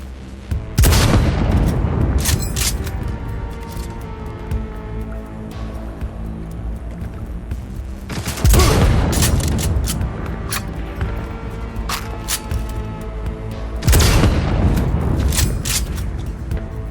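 Heavy gunfire and booming explosions from a firefight in the video game Cyberpunk 2077, loud and sustained, with three big blasts spaced several seconds apart over continuous rattling shots and rumble.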